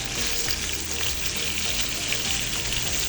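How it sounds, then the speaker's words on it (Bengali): Pieces of hilsa fish fry lightly in a pan of oil, giving a steady, close, continuous sizzle and crackle with faint stirring throughout and no voices. "যার কারণে আমি মাছগুলো হালকা ভেজে নিব।"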